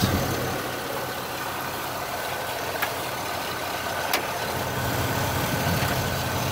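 A car engine idles after a head gasket repair, a steady, even rumble close by with a broad hiss over it and a couple of faint ticks, running without change for several seconds.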